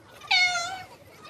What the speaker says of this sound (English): even clever Paolo the cat got a little confused